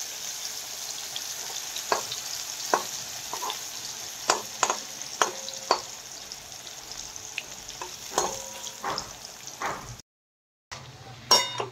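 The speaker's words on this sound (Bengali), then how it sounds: "এখন আলু ভাজা করছি।" Potatoes fry in a pan under a soft steady sizzle, punctuated by repeated sharp clinks and scrapes of a utensil stirring against the pan, with a short silent gap near the end.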